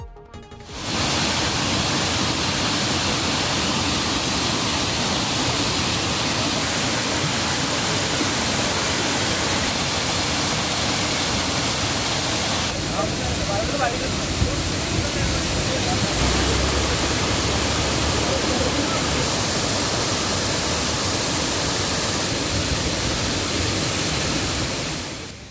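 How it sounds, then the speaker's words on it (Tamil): Small roadside waterfalls gush after heavy rain in the Nilgiris hills, giving a loud, steady, broadband roar of falling water that holds unbroken for about twenty-five seconds. "தொடர்ந்து பெய்து வந்த மழையால் சாலை ஓரங்களில் சிறிய சிறிய அருவிகளில் தண்ணீர் ஆர்ப்பரித்து கொட்டுகிறது"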